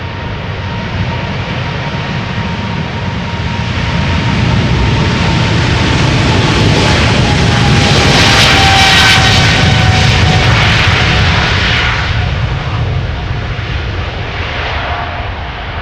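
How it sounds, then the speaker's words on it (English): KLM Boeing 777-300 spooling up and taking off from Schiphol's Polderbaan toward Johannesburg, a loud, close, continuous jet roar with a rising whine that builds to a peak midway and holds, with no voices over it. "The airplane is already spooling up. KLM 777-300 to Johannesburg."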